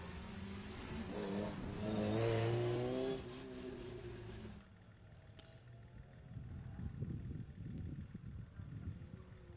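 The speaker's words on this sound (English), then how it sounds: "And here we have our BMW and the Vauxhall VX220 coming through." Rally cars, a BMW and a Vauxhall VX220, pass on a forest stage, one engine rising loud and revving close by before fading, then a lower, more distant engine drone.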